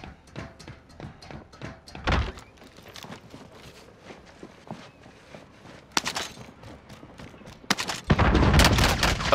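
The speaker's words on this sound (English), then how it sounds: "Oh, someone's shooting at me." Gunfire in Call of Duty: Modern Warfare, heard as a string of sharp cracks and thuds of mixed loudness, some distant, building into louder, denser bursts near the end.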